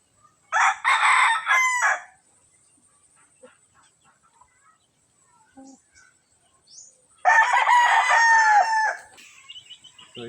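Chickens on a farm, with a rooster crowing twice in loud, near calls separated by a quiet gap holding faint clucks and small noises.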